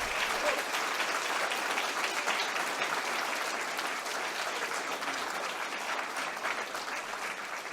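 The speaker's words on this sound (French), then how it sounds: "il faut surtout applaudir les équipes de République souveraine" An audience at a political closing speech applauds in steady, sustained clapping that holds across the whole stretch and eases slightly toward the end.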